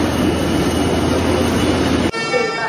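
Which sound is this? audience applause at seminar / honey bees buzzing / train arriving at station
train arriving at station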